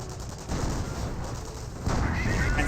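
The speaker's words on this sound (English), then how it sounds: "Snipers hitting the Volksgrenadier." Sniper fire and battle noise from Company of Heroes as a Volksgrenadier is hit, a dense wash of gunfire that steps up louder about halfway through and stays heavy to the end.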